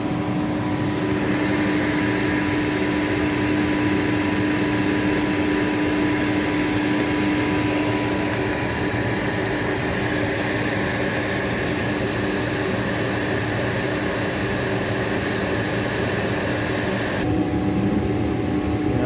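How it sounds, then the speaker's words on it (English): A Nu-Way oil burner's fan motor runs at low fire, stage one, giving a loud, steady, close drone with a constant hum that holds unbroken for the whole stretch and shifts slightly in tone near the end. "Got our fan motor running."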